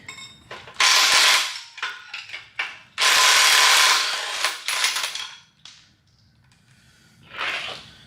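A ratchet wrench spins loose nuts in a garage, giving bursts of rapid clicking and whirring that start and stop, loud and close, with short pauses between pulls and a fainter burst at the end.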